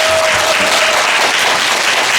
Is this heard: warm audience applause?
yes